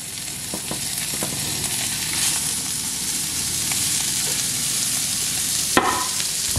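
Pasta carbonara ingredients frying in a pan, a steady loud sizzle with occasional stirring clatter and a sharp scrape near the end, no talking.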